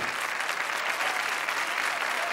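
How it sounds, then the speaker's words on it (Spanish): An audience applauds in a continuous, dense wash of clapping that holds at an even level throughout, with no break and no voices standing out. "las que me aplauden son las tías"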